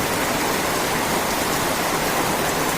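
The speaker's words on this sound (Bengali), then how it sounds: "দেখতে পাচ্ছ তোমরা কেমন বৃষ্টি হচ্ছে" Heavy rain pours steadily under a dark, fully clouded sky, with water pooling in front of a house; a dense, even roar of falling water continues unbroken throughout, loud and close, with no voices.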